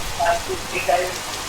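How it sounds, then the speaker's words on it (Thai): Steady rain falls in Minecraft as an even, hissing patter, with a few brief soft tones from the game now and then. "เดี๋ยวแป๊บนึงหยุดฝนก่อน"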